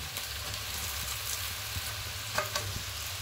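Egg chow mein noodles with vegetables stir-fry in a pan with a continuous soft sizzle and occasional clinks and scrapes of stirring.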